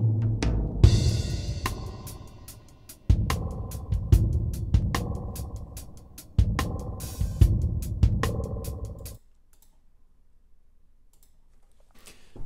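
Drums run through a spring reverb built from a synthesized impulse response: punchy hits with bright, splashy decaying tails in a pulsing pattern, ending abruptly into near silence after about nine seconds.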